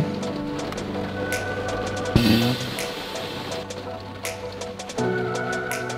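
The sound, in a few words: rain falling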